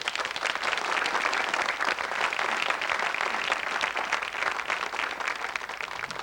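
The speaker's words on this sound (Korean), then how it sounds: "네, 여러분 박수 주세요." A studio audience at a Korean business broadcast gives sustained applause, a continuous wash of many hands clapping at moderate volume.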